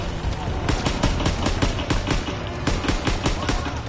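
Rapid machine gun fire in a video game cracks in a fast, even burst of closely spaced shots, loud and near, lasting a few seconds with a voice speaking briefly underneath.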